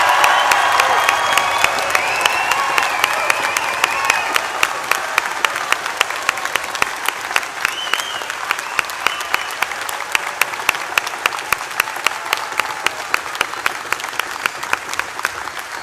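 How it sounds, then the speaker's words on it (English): A graduation ceremony audience gives the graduating class a long, loud round of applause, dense crowd clapping that stays strong throughout, with some sharper nearby claps standing out and faint cheering mixed in. "give a massive lift the roof off round of applause for our graduating class"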